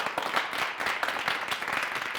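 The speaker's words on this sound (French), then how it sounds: "Et on va s'applaudir bien fort." A television studio audience in Burkina Faso claps steadily and fairly loudly, a dense even patter of many hands without talk.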